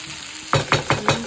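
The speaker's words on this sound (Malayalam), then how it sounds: "അതാ നമ്മളെ കോവക്ക മേക്ക് വരട്ടി നന്നായി ഫ്രൈ ആയി വരുന്നു" Ivy gourd (kovakka) mezhukkupuratti stir-frying in a pan, with four evenly spaced scraping stirs bursting over a low sizzle, close and fairly loud, with no talking.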